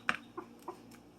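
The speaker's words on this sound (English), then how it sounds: "A lot of birds chirping out back today." A few short bird calls from outside behind a house, three or four separate chirps spaced unevenly, moderately faint against a quiet background.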